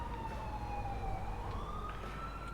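Fire engine siren in the GTA video game, a steady wailing tone rising and falling slightly, faint and distant over a low rumbling background.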